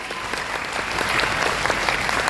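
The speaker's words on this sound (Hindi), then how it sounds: "एक जोरदार ताली चाहूंगा मैं" An audience applauds at a DXN direct-selling business meeting, with loud, thick, continuous clapping filling the whole short stretch.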